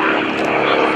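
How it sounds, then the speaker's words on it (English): A Pitts Model 12 aerobatic biplane flies at a lake airshow, its propeller engine a loud, continuous droning roar close by. An announcer talks over it. "Greg Connell is going to come in from the right with the pitch Model 12"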